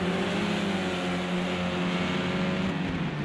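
A pack of touring race cars, including a BMW Z4, from the Project CARS 2 video game drones down a back straight, a steady loud blend of engines with no voices.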